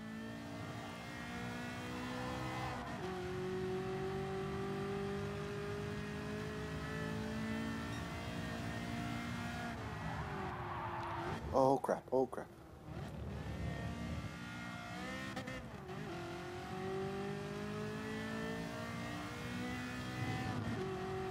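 Race car engine in the video game Gran Turismo Sport, a sustained droning roar that climbs and drops with gear changes, briefly cut by a burst of sharper noise, with a voice exclaiming over it.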